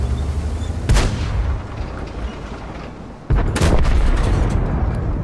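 Two heavy tank cannon shots boom in a World War II tank game, the first near the one-second mark and the second about two and a half seconds later, each a loud broadband blast trailing into rumbling engine noise.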